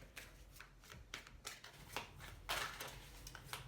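Oracle cards being shuffled by hand in a quiet room, a run of soft papery riffles and slides coming in uneven bursts, close and fairly faint, with no voices.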